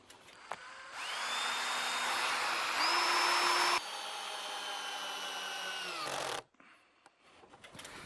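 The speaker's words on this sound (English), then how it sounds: "I'm going to fix these rafters with these screws here" Power drill or driver running in a sustained whine for several seconds, pitch rising as it loads up, driving washer-head screws down tight into timber garden rafters onto a side rail, then stopping abruptly.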